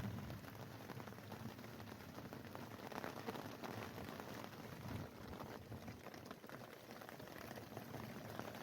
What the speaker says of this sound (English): Later that night, the rain cooled us even more.